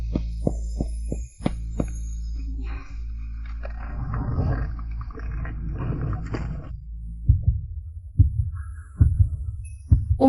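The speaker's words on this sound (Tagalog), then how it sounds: "Bakit ganito ang tibok ng puso ko?" Heavy, low heartbeat thumps, a handful of distinct beats at the start and again near the end, with a dark rumbling swell in between, played loud and close without any talk.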